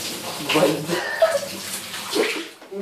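Water runs from a tap into a balloon as it fills, a steady splashing gush with shifting pitch, close by, while a child and an adult talk over it.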